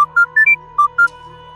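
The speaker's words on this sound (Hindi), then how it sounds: "कौन फोन पे फोन कर रहा है?" An incoming-call phone ringtone plays a quick, loud, close run of short electronic tones at different pitches, heard alone.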